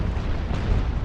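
A ship explodes in the naval warfare game Naval Action, a loud, continuous booming rumble that fills the whole moment with heavy low roar and no voices.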